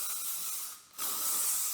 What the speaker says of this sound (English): some hairspray so that we have a little bit of hold